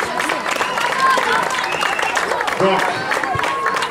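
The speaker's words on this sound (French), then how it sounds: "on les applaudit bien fort." A crowd applauds and cheers a U10 children's football team at a youth tournament, a busy mix of clapping and voices. People talk and shout over the noise.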